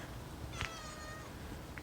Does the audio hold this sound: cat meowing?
yes